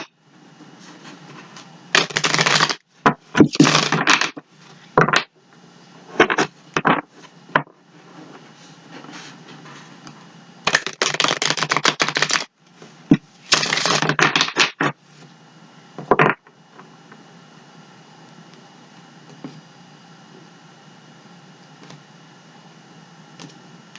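Several quick bursts of tarot cards being riffled and shuffled, crisp and close, separated by short pauses in an otherwise quiet room.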